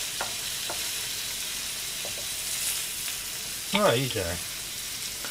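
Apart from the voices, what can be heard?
cinnamon hamburger patty frying in a pan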